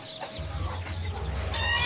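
Village hen clucking close by among hatching chicks, with a few low, throaty clucks and a soft rising note over faint background chirps, no talk.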